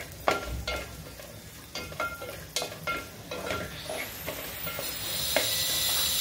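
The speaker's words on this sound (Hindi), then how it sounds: "अब इसमें किशमिश डालेंगे और इसको भी अच्छे से भून कर लेंगे" Raisins frying in ghee while being stirred in a pan, with a steady sizzle and hiss, repeated scraping stir strokes and a rising steam hiss toward the end, close and clear with no talk.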